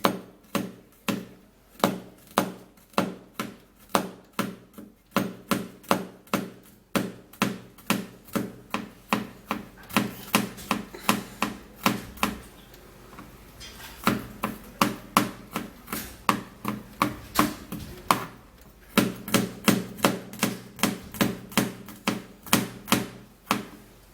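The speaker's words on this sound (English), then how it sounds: "I have 3 cloves of garlic, and now I would have to be cutting them in pieces" A knife chops garlic cloves into pieces on a board in a steady run of sharp, close taps, with a couple of short pauses along the way and no talking.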